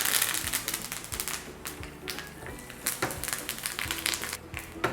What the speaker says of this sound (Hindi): राई को चटकने देंगे